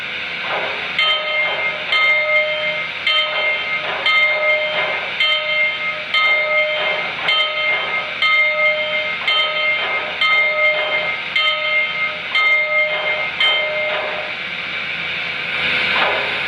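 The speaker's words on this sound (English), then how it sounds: "or I can do a continuous ring like this." A model train locomotive bell rings steadily and continuously in an even clanging rhythm, over a constant hissing background.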